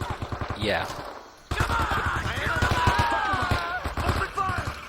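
M-16 rifle fire in the Vietnam-era shooter game Men of Valor: rapid, rhythmic bursts of shots repeat through the clip, with a short lull, amid battle noise and shouting voices.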